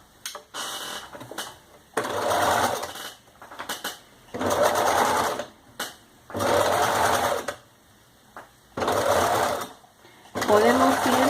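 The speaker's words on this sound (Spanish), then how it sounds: "Vamos a coser todo alrededor por el lado de afuera." A sewing machine stitches around a Starfire costume collar in repeated bursts of rapid, loud whirring, each lasting a second or two, separated by pauses and faint clicks.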